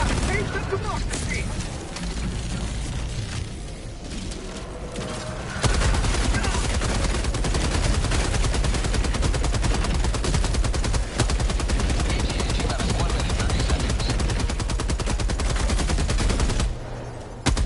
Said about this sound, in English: the HMG cooks these dudes